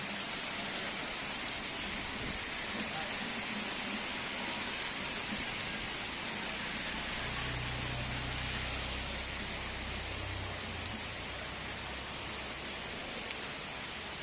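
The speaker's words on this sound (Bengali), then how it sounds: "সেই বৃষ্টির তেজ দেখেন, এখানে ড্রেন ভর্তি পানি জমে গেল রাস্তাতে।" Heavy rain pours steadily onto a street in front of a women's college in Rajshahi, where the drains have filled and water has pooled on the road. It makes a dense, even hiss throughout, with a low rumble joining partway through.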